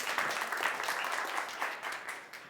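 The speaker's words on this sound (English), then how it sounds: "So big round of applause for Debbie and Shane." Audience applause at a live talk-show-style event on body language, a short, moderately quiet spell of crowd clapping with slight swells that tapers off near the end.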